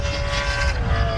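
A Dangio-powered race car at the Gundy 500 event roars past briefly, a loud, close engine drone with a steady high tone over low rumble.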